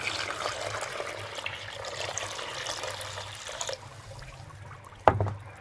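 Water is poured and stirred into multani mitti mud mixed with grey cement, making a soft, close trickling and sloshing, followed near the end by a single brief knock.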